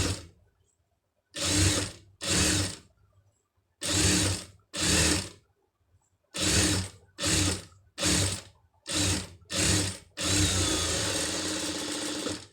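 A sewing machine stitches a sleeve for a pom pom design. It runs in a series of short, loud bursts with quiet pauses between them, ending in one longer continuous run. No one speaks.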